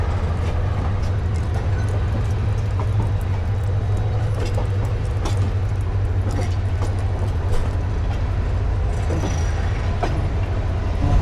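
A Mohonganj Express train pulls out of Dhaka's Kamalapur station, a steady loud low rumble of the moving carriages with faint rattles and occasional clanks running throughout, no voices.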